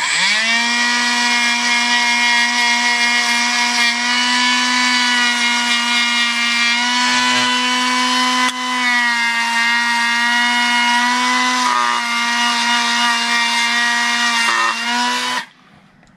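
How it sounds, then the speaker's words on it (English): Dremel rotary tool fitted with a small wire brush scrubbing corrosion off an old Barn Sprite part, a loud steady high whine held for about fifteen seconds with slight dips as the brush bites, then cutting off abruptly. "I'm going to take my Dremel real quick and clean that up. My Dremel has a little wire brush on it."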